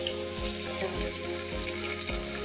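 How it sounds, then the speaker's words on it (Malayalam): Onion, tomato and curry leaves sautéing in a pan for egg biryani, a steady sizzle with regular spatula strokes roughly every half second, close and even. "എല്ലാം കൂടെ നമുക്ക് നന്നായിട്ട് വഴറ്റിയെടുക്കാം."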